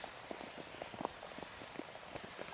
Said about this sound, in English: just how heavy the rain is at the moment